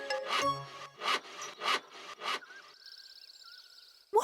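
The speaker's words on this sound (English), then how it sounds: "I'm sawing these logs into planks" Several rhythmic rasping strokes of a saw cutting logs into planks, each stroke a separate scrape, followed by a thinner higher rubbing sound and a final sharp scrape, in an animated cartoon.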